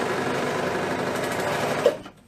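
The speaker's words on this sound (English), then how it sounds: "And Anne, you're asking about my sewing machine. It is called an iSew." An iSew sewing machine stitches in a fast, even mechanical patter nearby, running steadily and then stopping abruptly, leaving near silence.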